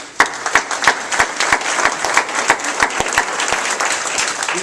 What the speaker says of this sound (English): HBI and Peregrine all deserve a real round of applause for what's gone on with this project